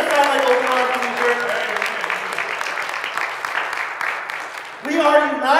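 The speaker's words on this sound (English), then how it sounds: "Can you give God a round of applause?" A church congregation claps together during a Christmas-season service, the applause steady and full for several seconds, with a voice rising over it near the end.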